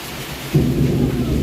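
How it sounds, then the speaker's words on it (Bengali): A sudden gust of stormy weather swells up, with a low rumbling roar of wind and rain building and holding steady. "দেখছো কি হাওয়া দিচ্ছে মনে হয় যেন কাল বৈশাখী ঝড় উঠেছে"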